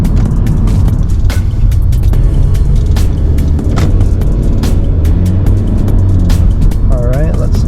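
A 2019 Honda Civic accelerating, heard from inside the cabin as a loud, steady low engine and road drone, with a person talking over it.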